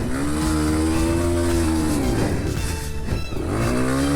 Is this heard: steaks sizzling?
no